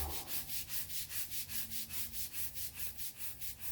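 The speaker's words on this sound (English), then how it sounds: "you get the Cricut stick broom and you do some Cricut scrubbing" A stick broom scrubs a patio in quick, regular strokes, about four per second, making a close, rasping bristle sound with no voices.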